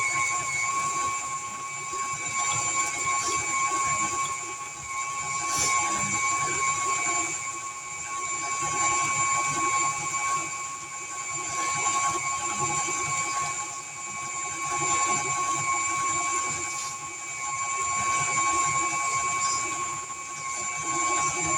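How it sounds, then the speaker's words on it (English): An electric mixer beats cookie dough for white chocolate chip cranberry cookies until light and fluffy, giving a steady, close motor whir with a high, constant whine that holds unbroken throughout, with no talking. "we're going to let this mix for just 2 or 3 minutes till it all gets mixed in real good"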